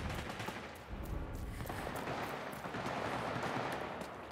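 Gunfire in the video game Vampire: The Masquerade Bloodhunt, set in a city: dense, rapid bursts of shots rattling continuously, fairly quiet and distant-sounding, with no one talking.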